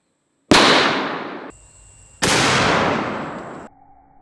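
Two loud, close rifle blasts from a less-lethal .50 BMG test shot ring out about two seconds apart, each a sharp crack with a long decaying roar, followed by faint electronic tones.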